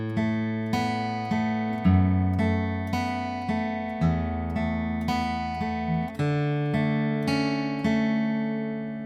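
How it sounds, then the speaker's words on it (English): Acoustic guitar plays an intro and verse riff, picked notes ringing steadily in a repeating pattern, clear and close with no voice. "that's it for the intro and verse riff, which sounds like this"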